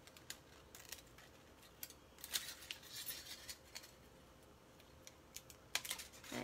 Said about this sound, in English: So I'm just going to cut out star number two the same way.